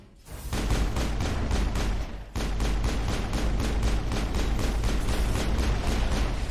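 Automated turret gunfire in the video game Mass Effect, a loud, steady stream of rapid repeating shots that runs nearly unbroken for several seconds after a brief quiet start, with one short dip midway.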